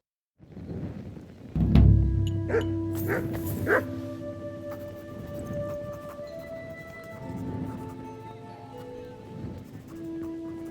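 A dog in the medieval game Kingdom Come: Deliverance II gives a few loud, close barks in quick succession, followed by softer yips and whimpering tones that trail off over a low ambient background.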